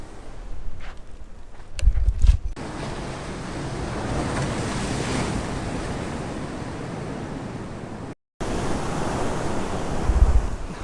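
Ocean waves break on a secluded beach in Cabo, a continuous close rush of surf with gusts of wind buffeting the microphone. Heavier breaker swells come near the start and end, and one dropout breaks the sound briefly.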